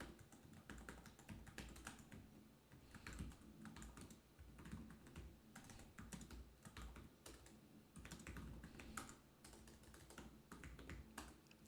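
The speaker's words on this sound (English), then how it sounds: "I am not typing optimally." Continuous rapid typing on a computer keyboard while coding a programming puzzle, dense clattering keystrokes close up with irregular bursts and no talk.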